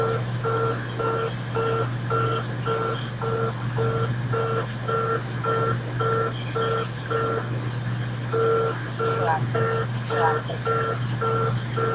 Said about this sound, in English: Sorry guys about that beeping sound.